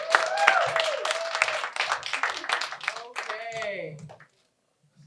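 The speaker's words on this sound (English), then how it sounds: "Keep clapping until she gets up here." Comedy club audience clapping and cheering as the next comic walks up to the stage, a dense crackle of hands mixed with whoops and shouting voices, loud for about four seconds before cutting to silence.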